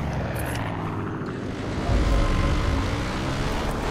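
Propeller airplanes passing overhead in the video game Far Cry 5, a continuous droning engine roar that swells louder about halfway through and holds steady, with no talking.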